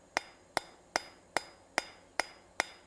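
Hammer blows ring out on a hand towel bar being forged at the far edge of an anvil, seven sharp, evenly spaced strikes about every 0.4 seconds, close and bright with short metallic decays.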